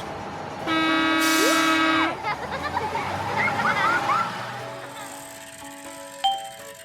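A bus horn blasts for about a second and a half, loud and sustained, then scattered dings and clanks of traffic follow and a short knock sounds near the end.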